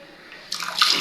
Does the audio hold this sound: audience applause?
no